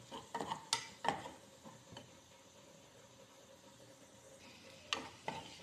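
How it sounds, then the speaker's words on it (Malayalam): Chili powder and spices stirred in a frying pan for prawn pickle: soft scraping with sharp spoon-on-pan clicks in irregular bursts at the start and end, and a faint sizzle between, close and quiet. "ഈ പൊടികളെല്ലാം നന്നായിട്ട് ഇളക്കി പച്ചമണം മാറും വരെ നമുക്ക് ഇളക്കി കൊടുക്കാം"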